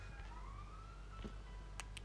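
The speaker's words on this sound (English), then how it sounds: "Sirens going in the background." Faint emergency sirens wailing in the distance, a rising tone drifting under quiet background noise, with a couple of brief clicks near the end.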